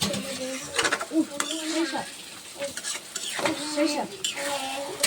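Goat meat with cashews and raisins is stirred and braised in a pan, with repeated scraping spoon strokes over a steady sizzle close by.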